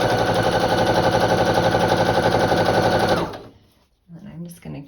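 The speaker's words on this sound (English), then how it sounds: "And I'm just going to keep sewing" A sewing machine stitches quilt block pieces together at a quarter-inch seam, running loud and steady with a rapid even rhythm for about three seconds before stopping, followed by brief quiet and a few soft handling noises.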